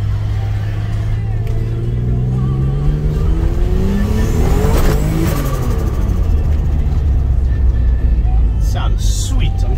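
A turbocharged VR6 car engine on a low-boost pump-fuel tune pulls hard on its first drive, a loud, steady roar rising in pitch as it revs up, heard from inside the car with a voice briefly over it.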